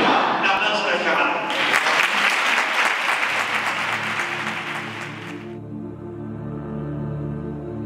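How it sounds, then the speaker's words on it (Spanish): A crowd applauds during a Rosario de la Aurora procession for the Concepción Coronada in 2015, with dense, loud clapping for about five seconds that then fades out beneath sustained tonal sound. "Un aplauso al chaval."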